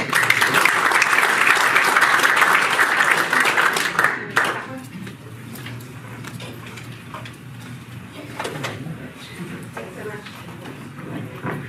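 Audience applause at a Mining Alliance meeting, a dense, loud burst of clapping for about four seconds that then cuts off, leaving quiet room noise and faint stirring.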